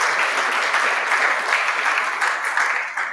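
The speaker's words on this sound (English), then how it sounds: "So another round of applause for the board." An audience at a stakeholder roadshow in Johannesburg claps in sustained, even applause, a dense wash of hand claps that stays loud throughout and eases slightly at the end.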